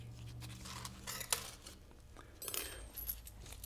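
Small metal shifter keys from a T5 non-World Class five-speed transmission being handled during a rebuild, giving faint light clinks and jangles with one sharper tick, quiet and close, with no talking.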